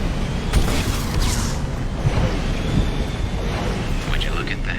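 Rumbling boom and roar of a guided missile launched from an infantry fighting vehicle in Mass Effect 2, a sustained loud low blast with a few sharp bursts on top.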